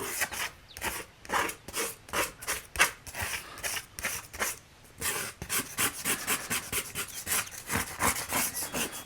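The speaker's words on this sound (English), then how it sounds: "I'm just sort of scraping off all this excess paint that I don't need anymore" A palette knife scrapes excess paint off a palette in rapid back-and-forth strokes, a close, continuous rasping scrape that keeps going throughout with no voices.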